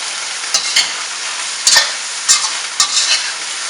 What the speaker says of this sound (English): since this is cooked shrimp, I just need to toss it up in the gravy